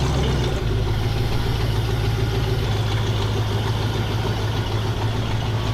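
An off-road limo's engine running at a steady idle after startup, a continuous low rumble with a slight knocking texture, close and loud with no talking.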